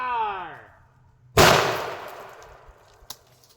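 A single sharp, loud gunshot fired at a target on a range with a rifle using its backup iron sights, cracking once and then trailing off in a decaying echo, with a faint later click.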